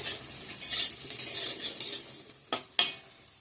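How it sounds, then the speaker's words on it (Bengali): Potatoes frying in a pan, with a continuous close sizzle and scraping stirring strokes, ending in two sharp metallic clinks of the utensil against the pan. "তো আমার আলু ভাজাটা হয়ে গেছে"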